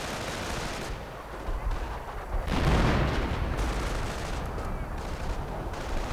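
An artillery barrage pounds in a wartime strategy video game, a dense, continuous rumble of blasts and gunfire with a heavier burst midway, loud and close throughout.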